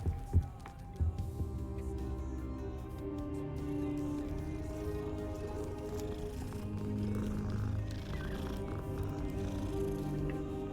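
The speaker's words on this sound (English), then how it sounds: "Cat." A cat purring with soft meows inside the Hogwarts Legacy video game, a steady low rumble running under game music and ambient sound for about ten seconds.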